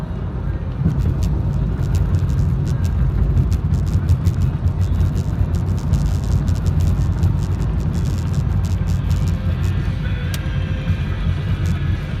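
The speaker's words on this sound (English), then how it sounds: "A little more traffic on the road than I was anticipating." Continuous roadside traffic, cars and a possible truck rolling by close enough to give a steady low rumble and tire hiss, with no talking over it.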